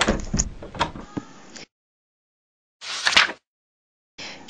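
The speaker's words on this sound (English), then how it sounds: "Then she went out the front door." A front door in a house opens and closes: two bursts of handling and latch noise, then silence, then another door sound starting at the end, with no talking.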